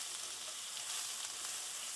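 Minced ginger and garlic hit a hot pan for lamb curry, and a soft, even sizzle hisses quietly and without a break, with no voices.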